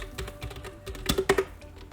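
Code is typed on a computer keyboard in soft, irregular clusters of key clicks, fairly close but quiet, with a few louder taps near the end.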